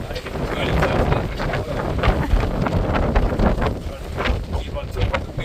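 Gusting wind roars steadily across a sailboat during storm Floris, a loud continuous broadband rush with buffeting surges, mixed with water and hull noise, and faint voices underneath.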